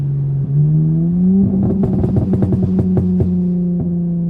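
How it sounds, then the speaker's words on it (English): A tuned Dodge Charger SXT pulls from 30 toward 60 mph, its engine droning low and steady, then rising in pitch as it accelerates, with a rapid burbling crackle layered over the exhaust note, loud and close. "Straightaway, I'm gonna do a little like 30 to 60."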